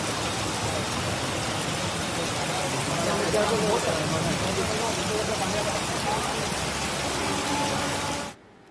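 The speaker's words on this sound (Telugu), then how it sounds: "భారీ వర్షానికి హైదరాబాద్ విజయవాడ హైవేపై పెద్ద అంబర్పేట వద్ద రోడ్డుపై భారీగా ట్రాఫిక్ జామ్ ఏర్పడింది" Heavy rain pours steadily onto the Hyderabad–Vijayawada highway at Pedda Amberpet amid a traffic jam, a loud dense hiss filling the scene before cutting off abruptly; a voice speaks over it.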